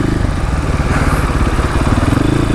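A KTM 500 EXC dirt bike engine idles loudly right up close after pulling in, a steady, low, rapid single-cylinder thump with no talking over it.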